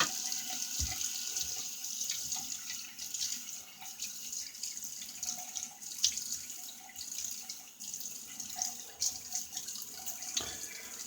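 Tap water runs steadily into a sink while a face is wetted before lathering for a shave with a 1960 Gillette Fatboy razor, a continuous close splashing stream with small irregular splashes and no talking.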